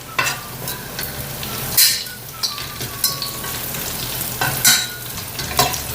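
Chili peppers tossed into a pan of garlic while cooking tausi chicken feet dim sum style: a steady close sizzle of frying with a few sharper clatters and stirring scrapes, no talking.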